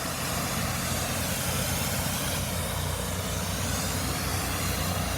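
Two pressure washers, one with a Kohler engine and one with a Honda engine, run together with triggers squeezed, a loud, dense, steady engine drone and spray hiss, close and without talk.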